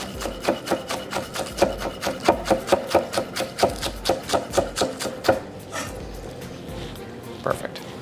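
Knife thinly slicing scallion greens on a cutting board for a plant-based salad, a steady run of crisp, evenly spaced chops close up, stopping near the end with one last tap.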